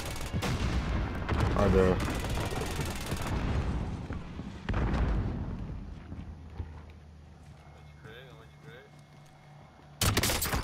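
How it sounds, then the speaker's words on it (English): Video game firefight with rifle shots crackling in sharp bursts and a grenade blast, the loudest hits early on, then sparser distant shots and soft effects under a player's shouted callouts. "Grenade out!"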